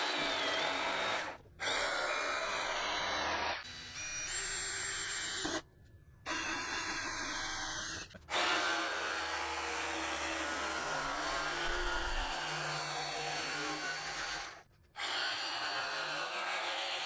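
A power drill fitted with a Forstner bit bores a hole through a 2024 Ford Ranger modular truck bedliner, running loud and close in long sustained stretches broken by a few brief pauses.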